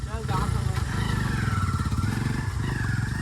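John Deere 5038 D tractor diesel engine running steadily with a throbbing low chug and mechanical clatter, loud and close, while people talk over it.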